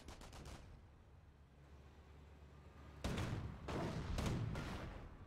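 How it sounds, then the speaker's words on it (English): Battle sounds from the Company of Heroes strategy game, with a quick burst of gunshots opening, a lull, then heavy booming artillery impacts and crackling gunfire swelling loudly over the last two seconds. "defensive 200mm barrage incoming on the supplier."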